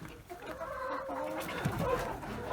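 A rooster on a small rural homestead clucks softly and repeatedly, close by, with light rustling around it.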